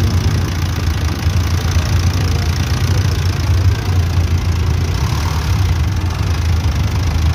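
A public utility jeepney engine idles steadily at close range, a constant low throbbing hum with no speech.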